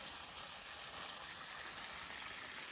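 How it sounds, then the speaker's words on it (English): Water welling up out of the ground in a green desert spot, a steady hissing gush that stays even and continuous throughout, fairly faint and close, with no talk. "just water coming up out of the ground"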